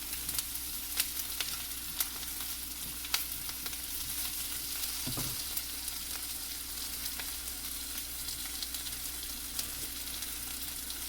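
Potatoes fry in a pan with a steady, continuous sizzle and faint crackles, and one brief stirring clatter sounds midway.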